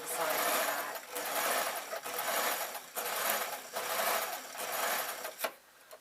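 Sewing machine running steady bursts of stitching, including a few reverse stitches, on an old-fashioned artist's painting smock; close and continuous with brief pauses between runs.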